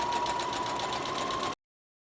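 A sewing machine runs steadily along a 3/8-inch seam on a wrap coat dress with a fast, even whirr, close and loud, then stops abruptly.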